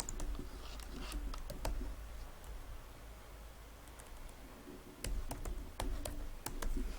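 Typing on a computer keyboard while editing CSS and HTML: sharp, separate key clicks come in uneven bursts, close and fairly quiet, over a soft background hiss and with no talking.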